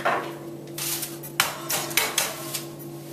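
A metal baking pan clatters and knocks into a preheated oven, several sharp bangs of metal on metal over a steady oven hum, with no talking.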